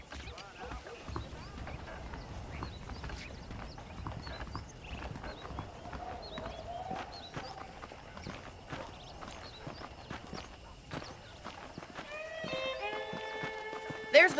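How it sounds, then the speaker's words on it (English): Saddled horses in Red Dead Redemption clip-clop at a steady walking pace nearby, with a horse snorting or whinnying briefly near the end as game characters talk over the hoofbeats. "The horses are saddled up over here."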